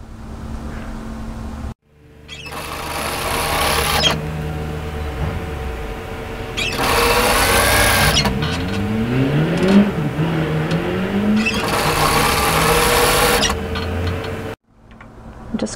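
A sewing machine stitches a hem on a cami along the overlocking line, its motor whirring steadily and near, rising and falling in speed for about thirteen seconds before stopping abruptly.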